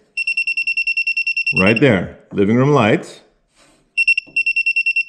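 Circuit breaker finder emitting rapid, evenly spaced high electronic beeps while a circuit is traced in a home, stopping as someone speaks close by, then resuming in another quick burst of beeps.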